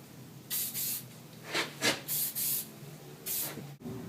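Several short hissing bursts of adhesion promoter sprayed from an aerosol can onto a plastic car bumper tab, each burst light and close, separated by brief pauses.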